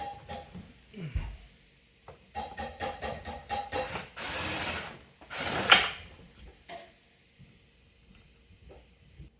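Screws being driven into the pivot joint of a gaming chair during assembly, heard as a run of quick ratcheting clicks and rubbing scrapes with short louder bursts of tool noise, close up and without talk.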